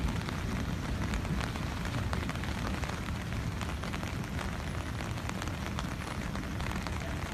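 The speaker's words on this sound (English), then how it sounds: "what time the rain is ending" Steady rain falls hard during street flooding in Scott Township, a dense, unbroken hiss and patter, close and loud throughout with no voices.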